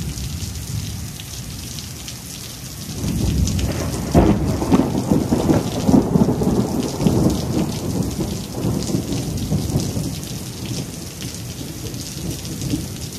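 A thunderstorm unleashes steady rain while a deep roll of thunder builds and rumbles for several seconds before fading back under the downpour.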